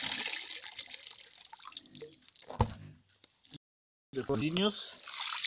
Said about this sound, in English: you leave all the water drain